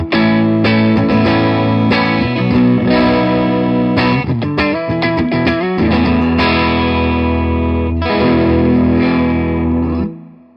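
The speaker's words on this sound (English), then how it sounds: "let's just play some nice big open chords" Yamaha SA2200 semi-hollow electric guitar strumming big open chords with a bright, twangy, slightly overdriven tone, ringing out loud and steady for about ten seconds before fading.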